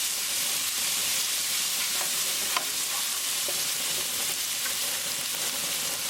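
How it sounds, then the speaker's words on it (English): Ginger, garlic and green chili paste frying in a pan, a steady hissing sizzle with a few light taps and scrapes of a spoon, near and continuous, no speech. "Cook until the raw garlicky flavor is gone."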